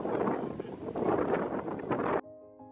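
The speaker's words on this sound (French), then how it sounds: "il y a trop de vent là." Strong wind buffets an outdoor microphone in loud, broadband rumbling gusts that surge and fade for about two seconds, then cut off abruptly.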